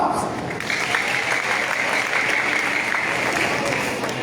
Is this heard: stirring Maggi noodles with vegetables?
no